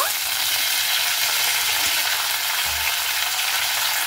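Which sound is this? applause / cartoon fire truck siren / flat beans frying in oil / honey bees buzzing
flat beans frying in oil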